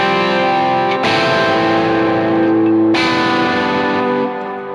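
Electric guitar through the Super Lead preset's drive setting on a Helix Stadium: two big, gritty strummed chords, each left to ring and sustain for a couple of seconds, close and loud, with no voices.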